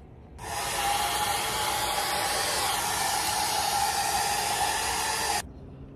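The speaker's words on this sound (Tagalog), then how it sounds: "Blower muna tayo guys." A hair dryer blows steadily and loudly for about five seconds, a constant airy roar that switches on and off abruptly.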